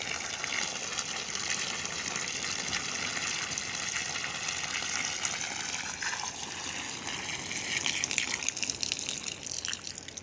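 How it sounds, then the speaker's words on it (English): Seawater gushes and splashes continuously out of a flooded engine for several seconds, a loud steady pour that grows slightly rougher toward the end. "This is the amount of water that we've so far"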